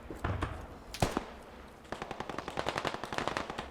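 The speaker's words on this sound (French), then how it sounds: "On est sous le feu, qu'est-ce que tu veux qu'on avance?" Video game gunfire in bursts: a few heavy single shots, then a rapid machine-gun rattle of evenly spaced rounds, fairly faint against a quiet background with no talk.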